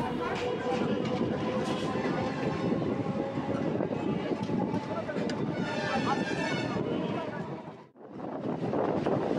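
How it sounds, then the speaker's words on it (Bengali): A local train on the Howrah–Tarakeswar line running from Haripal toward Kaikala station, rumbling and rattling loudly up close with wind buffeting the microphone, a voice heard at times, and a sudden brief dip before the clatter returns. "আমাদের ট্রেন হরিপাল ছেড়ে তার পরবর্তী গন্তব্য স্টেশনের দিকে ছুটে চলেছে"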